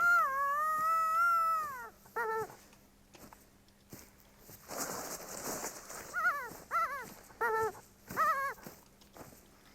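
A hunting dog in the video game theHunter: Call of the Wild whines and yelps in a series of high, rising cries, one long whimper then several short bursts, with rustling movement between.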